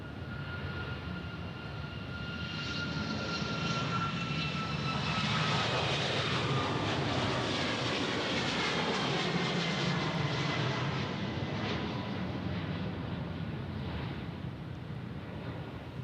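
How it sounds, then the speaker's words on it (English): A Boeing 737 MAX 8 jet departs Dallas Love Field, its engine roar swelling and holding for the whole stretch as a loud, steady wash of noise with no voices. "737 MAX 8 departing now."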